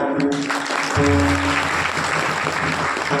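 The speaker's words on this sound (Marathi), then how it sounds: "त्यांच्यासाठी स्वागताची टाळी" Audience applause welcoming returning pilgrims at a humorous Marathi kirtan, a dense steady patter of many hands clapping throughout, with a low hum and murmur underneath.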